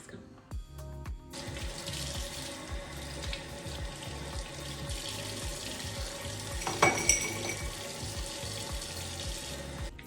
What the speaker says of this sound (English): let's brush our teeth